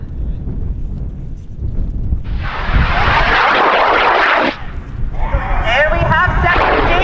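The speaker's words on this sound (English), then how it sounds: "There we have second stage ignition." A high power rocket launches from the pad with a loud roaring burn, then after a brief dip a second stage ignites with another rushing roar, heard amid wind noise and people talking.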